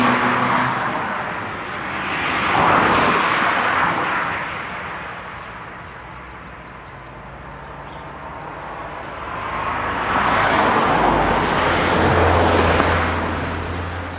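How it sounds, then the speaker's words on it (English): Road traffic passes close by on a street beside a house under damp-proofing and plastering work, with two loud vehicle swells rising and fading and a steady traffic rumble between them. "lot of traffic here, so please forgive the noise for a second"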